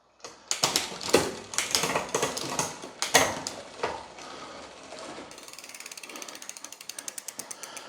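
Shifting the derailleur on an e-bike during a tune-up, with a burst of ratcheting clicks and chain rattle followed by a fast, even ticking of the freewheel as the cogs spin, close up and with no talking.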